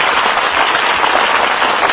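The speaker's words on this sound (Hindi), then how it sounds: "अपनी जोरदार तालियों के साथ आमंत्रित कीजिए" Loud, sustained applause from a large audience at a poetry gathering as the poet Sampat Saral is welcomed to the stage, a dense, even wash of clapping that fills the whole stretch without a break.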